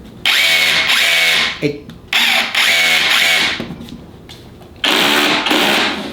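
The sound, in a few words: cordless hammer drill running in hammer mode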